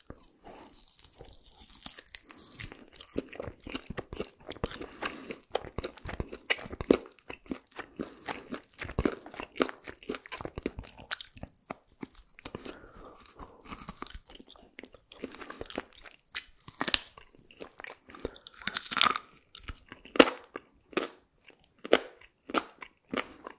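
Close-up crunchy chewing and biting into a spicy fried chicken burger, sharp crackling crunches repeating irregularly, mouth noises with no talking.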